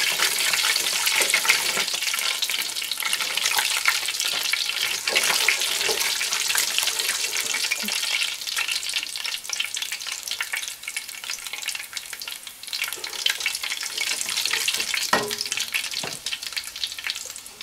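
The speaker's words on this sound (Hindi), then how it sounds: "तेल गर्म हो चुका है, इसमें हम ऐड कर रहे हैं ज़ीरा।" Cumin seeds frying in hot oil in a pan, a steady, dense crackling sizzle that fills the whole stretch with occasional louder pops, heard close and alone.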